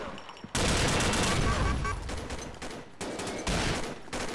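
Rapid automatic gunfire crackles in the online shooter Combat Arms, loud dense bursts starting abruptly and cutting in and out in short stretches, with a voice talking faintly beneath.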